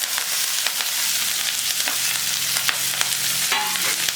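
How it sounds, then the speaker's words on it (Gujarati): Red radish pods (lal mogri) sizzle steadily as they are stirred in a pan with garlic paste and turmeric over lowered heat, a close, continuous frying hiss with soft scraping strokes and no voices. "હવે આપણે મોગરીને ઉમેરી દેવાની છે."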